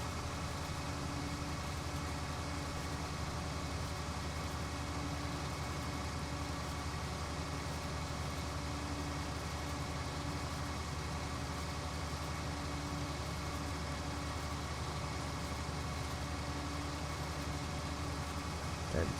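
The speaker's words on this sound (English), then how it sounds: "Got the revs going up now, up this hill." A vehicle engine in the video game Farming Simulator 19 climbs a hill with revs held high, giving a steady, continuous drone at an even level with no pauses.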